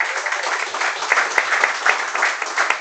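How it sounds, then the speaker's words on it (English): A studio audience at a live podcast café taping of a mayoral debate applauding steadily for about three seconds, a dense even wash of clapping with a few sharper claps standing out. "give yourself a round of applause."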